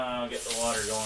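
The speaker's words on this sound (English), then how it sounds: "So, I'll get the water going first." Water runs from a kitchen tap during breakfast hash meal prep, a brief steady rushing splash heard close by, with a voice talking over it.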